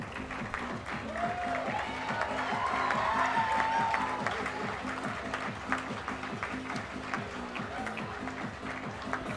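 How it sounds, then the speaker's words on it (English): Applause from the audience at an international conference awards ceremony, steady clapping throughout with a rhythmic pulsing backing track of music beneath it and a brief tonal sweep in the middle. "A big round of applause to PACE Career Academy."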